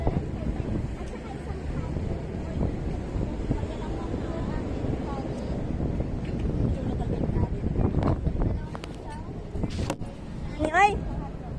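Gusty wind buffets a phone microphone outdoors at a street food spot in Doha, a constant low rumble and roar under people talking, with brief knocks and sharper sounds near the end.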